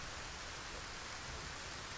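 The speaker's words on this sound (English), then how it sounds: "Am I hearing rain?" Rain falls in the Arena Breakout shooter video game, a faint, steady hiss with no distinct drops and no talking.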